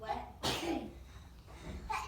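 A single sharp sneeze bursts out midway through a Pre-K classroom lesson, close and loud, while a voice reads a story aloud around it.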